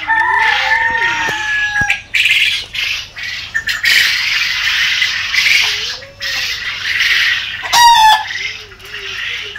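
Quail and farm chickens at a hatchery squawk and call loudly up close, a busy run of sharp cries and chirps with brief pauses between bursts.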